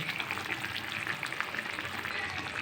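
Paneer stirred into butter masala gravy at a rolling boil, giving a steady, soft bubbling sizzle with faint stirring, continuous and close, with no talking.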